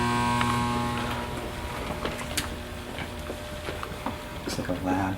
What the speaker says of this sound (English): the noises you're hearing are power and AC